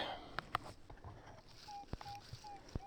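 Short electronic beeps from a metal detector, a few brief tones spaced irregularly over faint outdoor noise and scattered clicks, with no speech.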